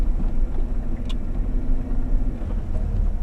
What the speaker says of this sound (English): So I went into 4 low just to climb this hill without tearing it up.